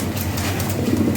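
Fancy pigeons coo in a steady low murmur, soft overlapping calls running through the whole moment with a faint background hum and no talking.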